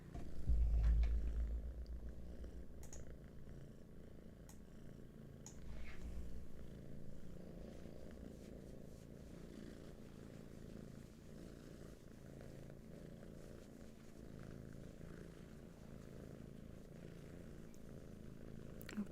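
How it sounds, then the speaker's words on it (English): Cats purring in a quiet room, a soft, steady low rumble that continues through the whole stretch with no talking. "Oh, we've got double purrs."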